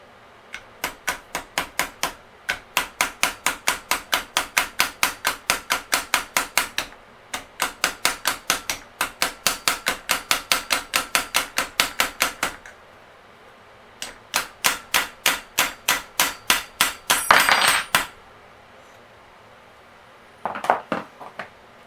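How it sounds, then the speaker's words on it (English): Rapid metallic strikes of a claw hammer on a bicycle pin of a 1988 Huffy BMX bike, in long bursts of regular blows, loud and close, with short pauses between volleys and a final cluster after a gap. "take the claw hammer end of the hammer and try and hit that pin"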